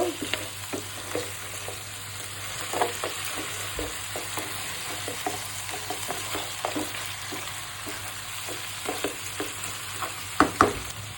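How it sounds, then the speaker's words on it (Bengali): Sour yogurt is stirred into a spice paste frying in a pan: a continuous bright sizzle with regular spoon scrapes and taps, close and fairly loud, ending in a couple of sharper knocks. "মশলাটা কষানো হয়ে গেছে, এখন দই দিয়ে দিব। টক দই দিয়ে দিলাম 1 কাপের মতো।"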